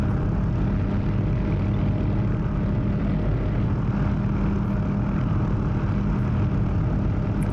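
Engine of an OH-6 helicopter in the DCS flight simulator throttling up, a steady, loud droning turbine roar with a dense low rumble that holds evenly throughout, no voices.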